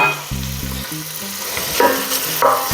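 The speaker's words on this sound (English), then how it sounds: "So we'll put our chorizo in the pan" Chorizo sizzling in a pan of annatto oil for arroz con gandules, a close crackling fry with soft stirring scrapes, and a brief hum of background noise at the start.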